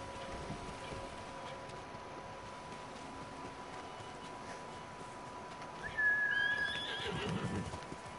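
A horse whinnies in Ghost of Tsushima, a short bright neigh rising out of a soft bed of rain-like ambience with faint hoofbeats, near and moderately loud.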